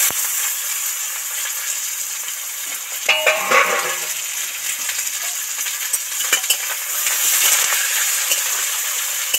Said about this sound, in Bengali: এবার টমেটো, আলু আর মূলোর টুকরো কাটা তেলের মধ্যে দিয়ে দেব।